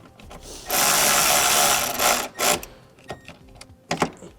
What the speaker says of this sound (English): So we're going to use a 10mm socket just to pull that bolt out. Place that through our ring terminal and we'll thread it back in.